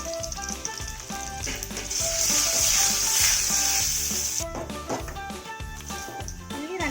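Chopped small shallots fry in coconut oil in a pan, a steady, dense, close sizzle with an occasional scrape of stirring, and a brief louder hiss partway through.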